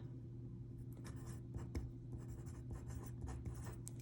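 A pencil writes a word by hand on paper, giving soft, close scratchy strokes in quick, irregular bursts over a low steady hum, with no talking.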